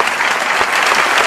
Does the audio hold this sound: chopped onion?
no